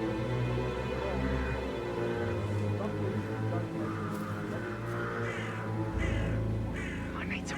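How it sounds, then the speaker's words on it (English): Crows cawing in Hitman 3: several harsh caws ring out over a constant droning game background, growing more frequent toward the end. "I'll never get rid of those stupid birds."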